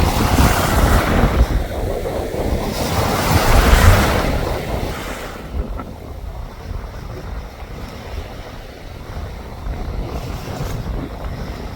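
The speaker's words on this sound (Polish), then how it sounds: "To strasznie wieje." Strong wind buffets the microphone on the deck of the Dover-Calais ferry, with waves rushing against the hull in loud surging gusts that ease off toward the end.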